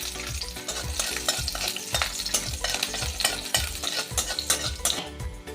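Chopped garlic, three or four pieces, sizzles in hot oil for an Odisha bori chura dish, a steady loud crackle broken by regular rhythmic stirring scrapes from a spoon in the pan.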